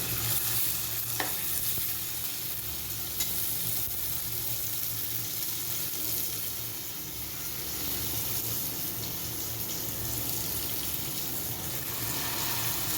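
Garlic chutney and masala sizzle in a hot frying pan for street-style masala pav, a dense continuous frying hiss with occasional stirring scrapes, close and fairly steady.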